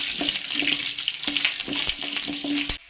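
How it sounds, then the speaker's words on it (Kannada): Urad dal crackles in hot tempering oil with a bright, continuous sizzle, interrupted by regular spoon scrapes and taps in a steady stirring rhythm, close by, without talk, cutting off abruptly at the end. "ಉದ್ದಿನಬೇಳೆ ಇಷ್ಟನ್ನು ಹಾಕ್ಕೊಂಡು ಫ್ರೈ ಮಾಡ್ಕೋಬೇಕು"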